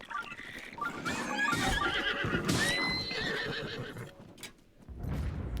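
Horse neighing and whinnying in the Zelda: Breath of the Wild video game, with clip-clopping hooves underneath, several loud whinnies over about five seconds against steady game ambience.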